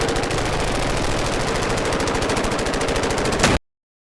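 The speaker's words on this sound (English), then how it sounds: "At the minute they're firing lots of rounds, but don't seem to be shooting at anything." Soldiers firing many rounds in sustained automatic gunfire, a loud unbroken clatter of rapid shots lasting several seconds before stopping abruptly into silence.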